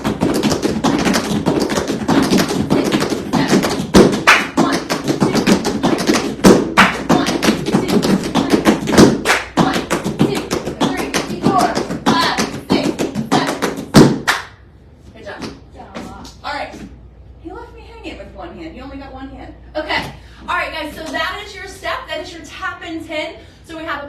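Rapid tap dance paradiddle footwork, a dense stream of quick metallic taps and heel thuds played fast for about fourteen seconds, then sparser taps under a voice counting and talking.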